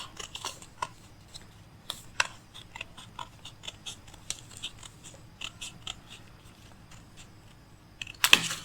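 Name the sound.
scissors cutting fabric for a circle flare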